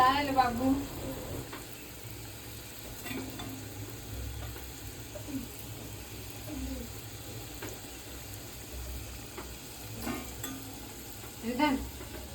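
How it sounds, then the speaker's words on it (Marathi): Modak frying in hot oil, a soft continuous sizzle with occasional stirring clinks, moderately close, while a person talks over it now and then. "मी फक्त आता हे मोदक तळणार आहे"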